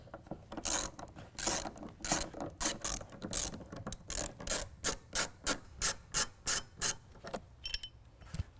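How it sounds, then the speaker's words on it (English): Hand ratchet fitted with a T50 Torx bit backing out the tie-down cleats on a 2017 Honda Ridgeline truck bed: a long run of quick, crisp clicking strokes, close and steady, growing more evenly spaced toward the end, with no talking. "We're going to use a T50 Torx bit."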